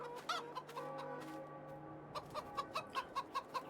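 Several chickens cluck in short, rhythmic bursts close by on a farm, growing more regular toward the end with no talking.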